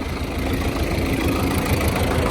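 A heavy tractor engine, an MTZ-82, idles steadily at close range, a constant low rumble with a faint knocking pulse and no voices.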